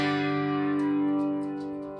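An electric guitar chord rings out through a Roland Micro Cube amp, sustained and fading, with a swirling, echoing wash of reverb and flanger over it.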